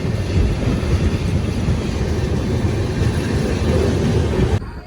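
A passenger train running toward Haridwar, heard as a steady loud rumble and rattle of the carriage from on board, continuous until a sudden drop at the very end.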